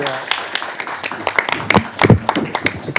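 An audience claps at a governance and security panel of the Florida AI Policy Summit, with scattered, uneven hand claps of moderate loudness and a voice speaking over them.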